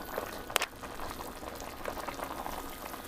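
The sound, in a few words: kimchi soup boiling in pot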